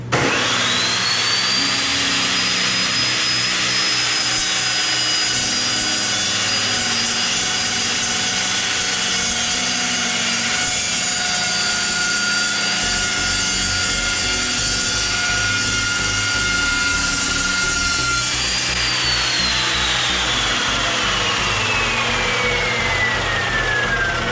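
An Evolution 14-inch metal chop saw cuts through metal, its loud motor whine holding steady as the blade grinds continuously, then the pitch slides down at the end of the cut.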